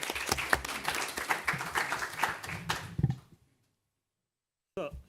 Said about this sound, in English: So let's applaud Alvin.